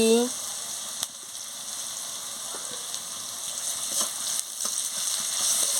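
Ginger-garlic paste and turmeric sizzle steadily in a hot pan, a continuous close hiss broken by a few soft stirring scrapes, with a brief voice near the start.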